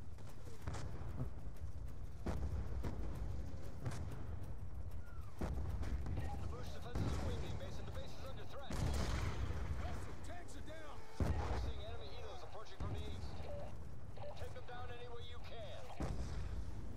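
Mortar and artillery blasts from Call of Duty Black Ops 2 boom repeatedly, a sharp impact every second or two, with distant rumbling between hits and a voice speaking over the fire.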